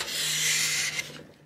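A Veritas scraper plane pulls a shaving across a wooden surface, giving one steady close rasping scrape that lasts about a second before it tapers off. No one speaks.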